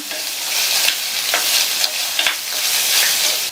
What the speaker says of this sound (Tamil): இந்த வெங்காயத்தோட கலர் மாறுற அளவுக்கு நல்லா எண்ணெயிலேயே வதக்கிக்கலாம்